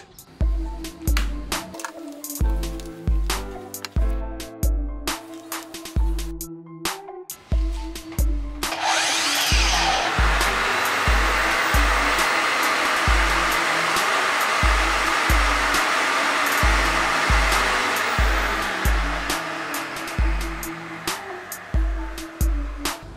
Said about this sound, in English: I love this vacuum.